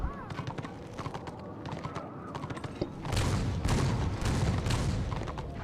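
Dwarven cannons firing in Warhammer Online, a heavy rumbling barrage that swells suddenly and keeps booming in thick bursts over the game's clatter and a talking voice.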